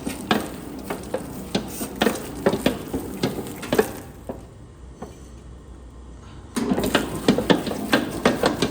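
A Hobart 60-quart mixer kneading a 50-pound batch of flour dough at second speed thumps and clanks in a steady repeating rhythm, briefly dropping to a quieter hum before the knocking resumes.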